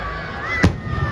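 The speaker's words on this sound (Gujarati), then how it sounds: "હવે ફટાકડા ફૂટી ગયા છે" A firecracker bursts with a single sharp bang at a Ravan effigy burning during a Dussehra celebration in Bhavnagar, rising briefly over a constant crowd murmur and a steady high whine.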